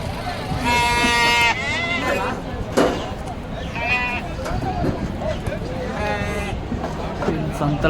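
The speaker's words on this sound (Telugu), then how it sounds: "గొర్రె పిల్లలు కాళ్ళకి ఏం కాదు, కాలు ఇరిగిపోకుండా నిదానంగా దింపుతున్నాడు చూడండి" Lambs bleating repeatedly as they are unloaded from vehicles at a livestock market, several loud nearby cries over crowd chatter and vehicle noise.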